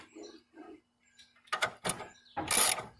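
A wrench tightens a 17mm bolt on a 1996 Honda Civic DX driver-side CV axle, producing a few close, bursty ratcheting clicks and metallic rasps separated by brief pauses.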